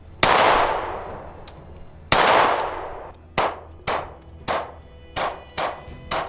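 Pistol fitted with an Osight red dot firing outdoors: two loud, ringing shots, then six quicker cracks at a steady pace, each with a short echo.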